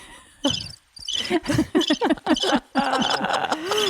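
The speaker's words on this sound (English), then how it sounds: "You're supposed to do the crickets." A cricket chirping effect sounds in short repeated trills, mixed in with voices on a podcast.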